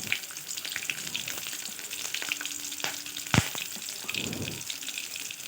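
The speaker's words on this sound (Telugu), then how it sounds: "ఆయిల్ అనేది వేడైన తర్వాత చిన్నగా కట్ చేసిన ఉల్లిగడ్డ ముక్కల్ని వేసుకోవాలి" Chopped onions frying in hot oil for chicken keema curry, a steady close sizzle with a few clinks and stirring scrapes of a utensil in the pan.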